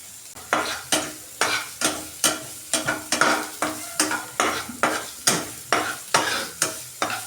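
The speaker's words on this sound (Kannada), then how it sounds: "ಒಂದು ಈರುಳ್ಳಿ ಇದನ್ನು ಹಾಕಿಬಿಟ್ಟು ಕ್ಲೀನಾಗಿ ಫ್ರೈ ಆಗ್ಬೇಕಿದು" A finely chopped onion fries in oil for paneer tikka masala while a spatula stirs it, making regular, evenly spaced scraping strokes over a low sizzle close by.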